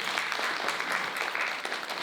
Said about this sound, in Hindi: स्पेशली जोरदार तालियां।